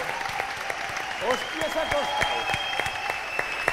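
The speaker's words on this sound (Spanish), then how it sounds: "por favor, un aplauso" An audience breaks into applause at a live event. Scattered clapping runs throughout while someone talks loudly over it near the microphone.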